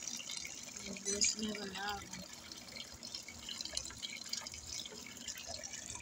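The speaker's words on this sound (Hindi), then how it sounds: "ये हमने नलका खोला" A tap runs water into a sink while a dirty dish is washed with a brush, a steady hiss with brief scrubbing and splashing, faint and continuous under a voice speaking.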